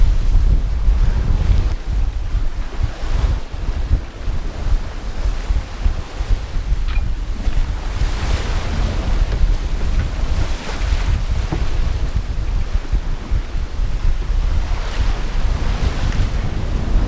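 A sailboat crossing the North Sea, with steady roaring wind buffeting the microphone and waves washing and slapping against the hull, continuous and loud throughout, no voices.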